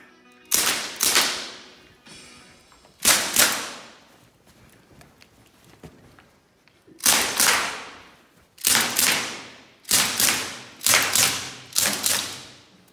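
Sharp cracks from a .177 semi-auto Sig Sauer MCX air rifle fired outdoors in North Wales, spaced single shots at first and then a quicker run of shots, each with a short decaying echo.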